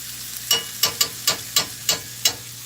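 Sausage and onion frying in a pan, a soft sizzle under a run of seven sharp, evenly spaced taps and scrapes from the utensil, close and distinct.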